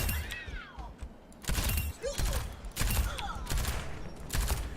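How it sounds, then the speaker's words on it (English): Baptiste's three-round burst rifle in Overwatch firing in quick bursts, sharp cracks grouped in clusters about a second apart amid game effects. "the 3-round bursting is kind of cool"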